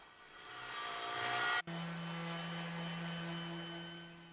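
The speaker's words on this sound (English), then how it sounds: "And more sanding." Continuous whirring of a power sander on solid messmate hardwood panels, close and steady, briefly cutting out then resuming with a lower hum.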